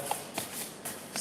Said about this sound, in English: They're so hard to shuffle with index cards.